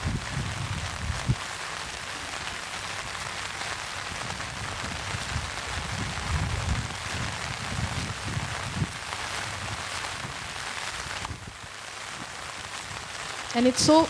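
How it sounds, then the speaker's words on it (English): Steady rain falls on a boat at sea in foggy weather, a dense, continuous patter with low rumbling underneath that holds throughout and thins briefly near the end. "And it's very foggy and it's raining."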